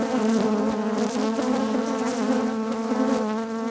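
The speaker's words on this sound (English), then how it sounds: "Tons and tons of bees though." Honey bees in an open hive make a dense, steady drone of buzzing, close and loud, with no voices.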